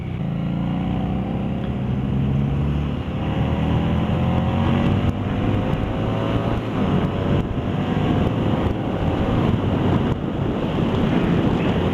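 Engine of a 2015 Harley-Davidson Street 750 motorcycle on a test ride, a steady close drone with rising and falling tones as it gathers speed, heavily mixed with continuous wind rush over the microphone.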